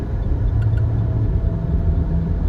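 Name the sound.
car driving on the road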